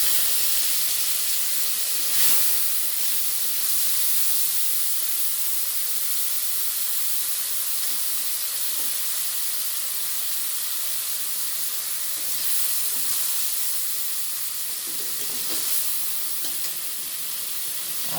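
Chopped tomato sizzles in hot oil with cumin, bay leaves and a dried chilli, giving a steady close hiss and crackle with a few louder spits and stirring scrapes, no voices.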